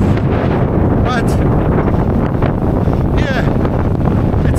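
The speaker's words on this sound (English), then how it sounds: "super, super windy." Strong wind buffets the microphone on the summit of Mount Gulugod Baboy in Batangas, Philippines, a steady, loud roar that lasts the whole stretch, with brief faint whistling sounds drifting through it.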